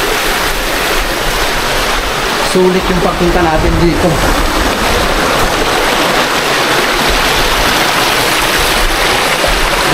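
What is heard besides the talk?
strong rushing water of a stream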